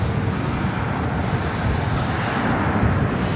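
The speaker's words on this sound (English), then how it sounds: "This is Delta Connection 3704 taking off to Aspen, Colorado on the CRJ 700 ER." A Delta Connection CRJ 700 ER jet takes off at LAX, a loud, steady engine roar heard from nearby, broad and constant throughout with no voices.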